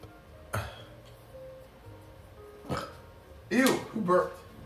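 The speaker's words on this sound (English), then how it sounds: "Ew, who burped?" A burp breaks out during a cooking livestream in a home kitchen, a short guttural eructation near the end standing out against faint background noise, with brief clatter and voices around it.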